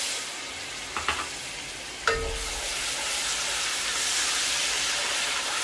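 Browned onions and ginger-garlic paste sizzle steadily in a hot pan, a broad hiss with a few clinks of a utensil stirring early on, close and unbroken.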